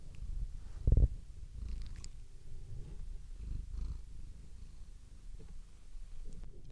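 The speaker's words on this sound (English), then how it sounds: "She does purr too" A cat purrs in a low, continuous rumble close by, interrupted once by a short soft thump.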